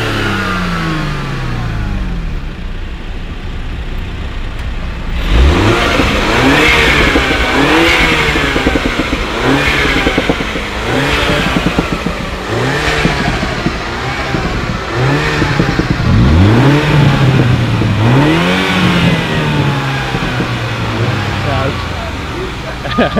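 A BMW Z4 with a six-cylinder engine approaches and revs loudly in a string of rising, falling sweeps, growing nearer. People talk over the engine now and then.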